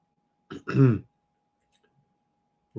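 A single close, rough throat clearing followed by a short cough, then near silence before a voice begins at the end.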